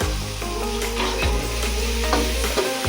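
Half a kilo of mutton with chopped tomatoes sizzles loudly in a pan while a spoon stirs and scrapes through it, close and continuous, with no talking.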